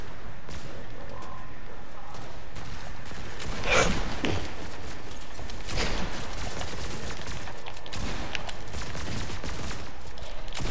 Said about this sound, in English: He actually shot at me?